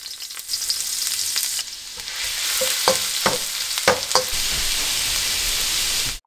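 Ginger frying in oil over a low flame, an even hiss of sizzling with a few sharp utensil taps and scrapes; no talk.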